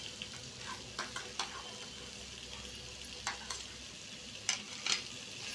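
A spoon stirs mashed potato filling with salt and turmeric in a frying pan, giving soft scraping and intermittent clinks over a steady low sizzle, close and fairly quiet with no talking.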